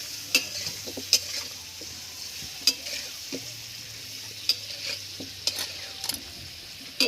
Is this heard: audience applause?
no